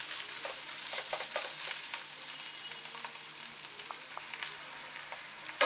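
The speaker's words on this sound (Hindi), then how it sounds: "सभी मसाला डालकर हमें अच्छी तरह से इसे भूनना है।" Spice masala roasts in a pan for a babool (acacia pod) sabzi, giving a close, busy sizzle and crackle with scattered sharp pops and scrapes, ending with a sudden louder knock.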